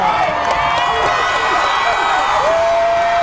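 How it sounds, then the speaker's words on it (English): Crowd at an elementary boys basketball championship game, Northaven versus Riverside, roaring and whooping in a loud continuous wash of voices, with sneaker squeaks cutting through and a commentator talking over the noise. "And you can hear in the crowd behind us, there's a lot of momentum."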